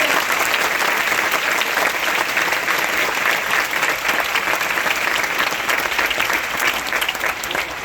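Loud, sustained applause from an audience welcoming a guest at a children's recitation event in a BAPS Swaminarayan temple in Ahmedabad, a dense, steady wash of clapping throughout with no pauses.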